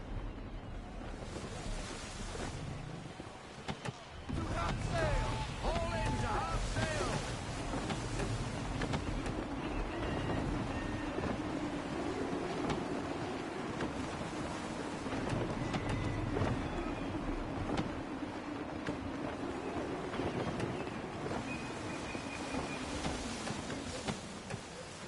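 A sailing ship in the video game Assassin's Creed 3 pushes through gusty wind at full sail, with a steady roar of wind and water under faint creaks and brief tonal cues, continuous and fairly distant.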